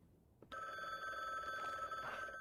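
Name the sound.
doorbell ringing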